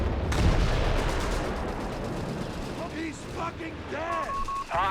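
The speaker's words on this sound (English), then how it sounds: "Havoc's howitzer though is ready to cause, well, some havoc." Howitzer artillery firing in Company of Heroes 3, a loud booming blast that rolls into dense rumbling explosions, with someone talking over the later part.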